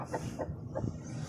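Hens clucking close by in short, soft bursts, several low calls in a row with steady background noise.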